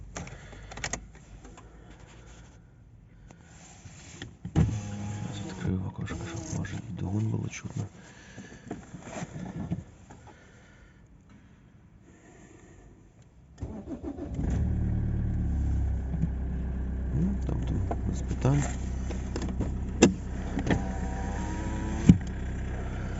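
A Toyota Avensis 2.0 D-4D diesel is cold-started: quiet handling sounds and a person talking, then about halfway through the engine catches and settles into a louder, steady idle that carries on to the end.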